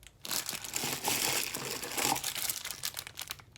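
Plastic wrapping around a Beatles figure crinkles and crushes up close, in a dense, continuous rustle for a few seconds.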